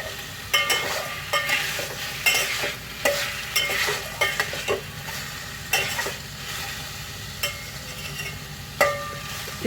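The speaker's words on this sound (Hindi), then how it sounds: "अब मैं साथ ही इसमें चिकन भी ऐड कर दूँगी।" Chicken is stirred through a frying pan for a home-style macaroni dish. A spoon scrapes and taps the pan in a steady rhythm over a continuous low sizzle, close and clear with no voices.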